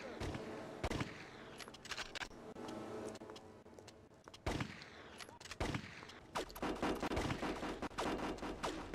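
Rapid gunfire from the shooter game Mortyr 2093-1944, dense bursts of fast automatic fire clattering through the mix, loudest toward the end, with game sounds layered underneath.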